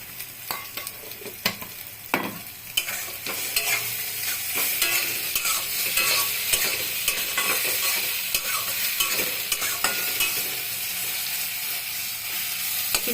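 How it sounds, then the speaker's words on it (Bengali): Bitter gourd, potato and eggplant are stirred and fried in a little oil, with a steady close sizzle and repeated scraping stirs throughout, no talking. "দিয়ে একটু নাড়াচাড়া করি।"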